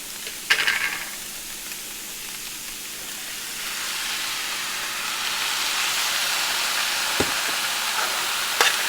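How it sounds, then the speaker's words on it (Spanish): Chipotle salsa goes into chicken tinga frying with onion in a hot pan, bursting into a loud, steady hiss and sizzle that swells and holds, with a couple of sharp utensil clicks and no talking. "Ahora le vamos a agregar la salsa."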